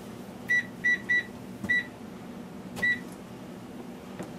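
Oven timer being set for a turkey bake, giving five short, bright electronic beeps, four in quick irregular succession and one after a pause, over a faint room hum.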